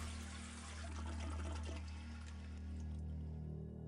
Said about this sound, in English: Naturally, we needed a cutscene of the toilet flushing.